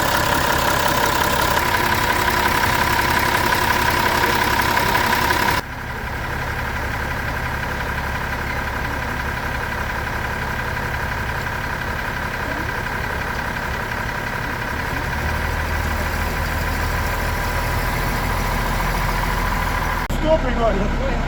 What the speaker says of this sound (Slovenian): Robert je avtobus vžgal in povedal, da ga poganja v Nemčiji vgrajen Mercedes-Benzov dizelski motor in vozilo malo premalo.